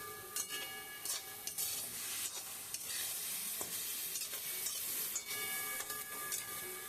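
Banana stem and shrimp stirred together in a frying pan, a steady sizzle and hiss with scraping utensil strokes throughout, close and continuous with no talking.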